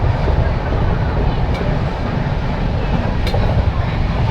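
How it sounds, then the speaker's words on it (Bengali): The Kamakhya–Delhi Brahmaputra Mail express runs at speed after leaving Rangiya, a loud, continuous low rumble and roar of the moving train, with a couple of faint metallic clicks. "রাঙ্গিয়া থেকে ছাড়ার পর ট্রেন বেশ ভালো স্পিডেই চলছে, 105-10-এর মধ্যেই চলছে"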